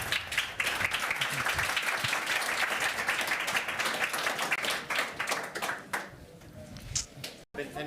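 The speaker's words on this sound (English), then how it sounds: "Please give a round of applause to our speakers." A conference audience at Ukraine House in Davos applauds the speakers after a panel, a sustained burst of clapping that thins toward the end while voices mingle in and a few louder individual claps stand out.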